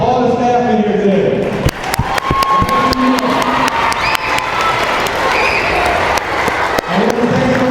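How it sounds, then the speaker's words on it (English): Applause and cheering for school staff in an elementary school gym, a crowd clapping loudly with scattered shouts and children's voices, a few sharp claps standing out and someone speaking through the noise. "Let's give a round of applause to all the staff in here today."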